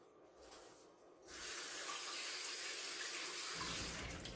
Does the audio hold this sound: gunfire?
no